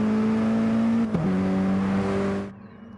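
A Mini Cooper race car passes on the Goodwood Motor Circuit during a Mini Cooper Cup race, its engine a steady high whine that drops sharply in pitch as it goes by, then cuts away abruptly.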